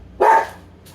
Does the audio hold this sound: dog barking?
yes